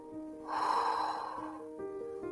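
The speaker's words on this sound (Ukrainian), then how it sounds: "Робимо вдих, видих, вдих, видих" During a guided breathing exercise, a single audible breath rushes in through the nose and eases out, close and soft, over a faint sustained musical tone.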